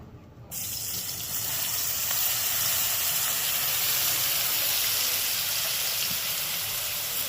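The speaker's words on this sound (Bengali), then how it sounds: "বেগুনগুলোকে প্রথমে ভেজে নেব" Eggplant pieces hit very hot oil in a wok, setting off a loud, dense, continuous frying hiss that swells just after the start and holds steady to the end.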